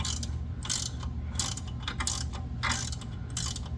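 Socket ratchet wrench turning bolts on a big block 454 engine, quick bursts of rapid clicking repeated in an uneven rhythm, close and clear over a low steady hum, with no voices.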